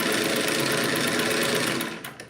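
Sewing machine stitching a zigzag, a steady fast mechanical whir with rhythmic needle clatter, close and loud, slowing and stopping near the end.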